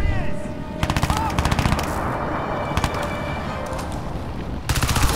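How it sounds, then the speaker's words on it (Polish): Enemy automatic gunfire in the shooter Crysis 2 crackles in rapid bursts of shots, some sustained and some short, loud and close over a dense game background, with a voice speaking briefly. "Widzimy już do nas strzelają."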